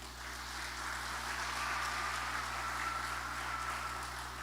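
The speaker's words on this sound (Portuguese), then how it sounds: "Dê uma salva de palmas para Jesus." Church congregation clapping for Jesus during a Wednesday evening service, a steady, dense wash of applause sustained throughout over a low electrical hum.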